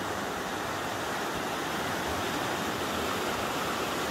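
A mountain river in the Assinsky gorge in Ingushetia rushes past close by as a steady, dense roar of water with no pauses, and no voices are heard over it.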